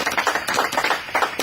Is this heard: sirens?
no